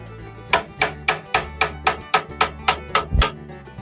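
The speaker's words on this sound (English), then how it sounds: "I'll tap on it to get it break free, but it's saying no" A tool knocks on the stuck oil fill tube of an old Ford hot rod engine, about a dozen sharp metallic taps in an even quick rhythm, close and loud, with no talk over them.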